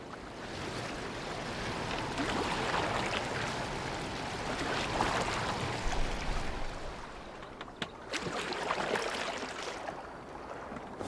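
A boat crossing open water in Assassin's Creed Valhalla set in England, with a steady wash of waves and rushing water around the hull and a breezy hiss, continuous and fairly close, without speech.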